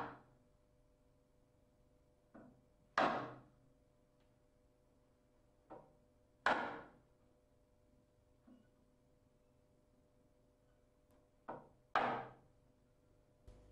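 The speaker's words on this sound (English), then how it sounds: "When using a chisel, make sure that the bottom or flat edge is used to cut into the timber." A wooden mallet striking a chisel cutting into timber: four sharp, widely spaced woody knocks, each preceded by a lighter tap, close and clear in a quiet room.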